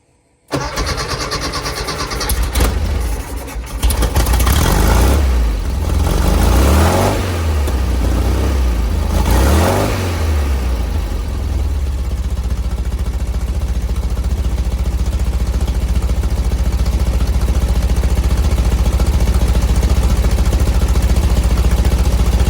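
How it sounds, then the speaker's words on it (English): Volkswagen air-cooled engine with dual 34 carburetors cranking and catching, then revving briefly a few times before settling into a steady, loud idle close by. "go ahead and fire it up, man."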